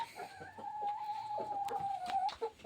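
A Livenska breed rooster gives soft clucks and short calls at a farmyard, faint and close among other poultry, with a steady tonal hum underneath.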